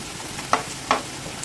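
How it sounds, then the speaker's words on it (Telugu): Cauliflower gobi pieces deep frying in hot oil until crispy, a continuous close bubbling sizzle with two brief sharp scraping clatters from a utensil; no voices. "బాగా క్రిస్పీ క్రిస్పీగా కలర్ వచ్చే వరకు వేయించుకోండి"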